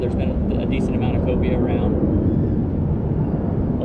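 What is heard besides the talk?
airplane taking off near a marina by an airport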